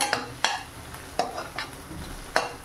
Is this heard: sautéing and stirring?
yes